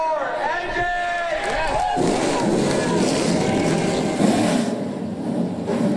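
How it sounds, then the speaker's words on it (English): NASCAR Pinty's Series race cars firing up at the start of the Bayer 300 in Edmonton, a loud broad engine roar swelling across the field over a cheering crowd, with an announcer's voice at first. "Drivers, start your engine!"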